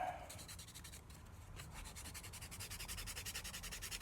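Steady rhythmic rubbing of sandpaper on a cut plastic part from a GI Joe VAMP toy vehicle, quiet and close, with repeated strokes that grow faster toward the end.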